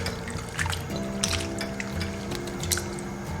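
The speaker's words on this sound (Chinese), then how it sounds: "牛腩冷水入锅" Chunks of beef brisket dropping into a pot of cold water, giving soft splashes and trickling liquid sounds with a few sharper clinks from the pot, close up and without talk.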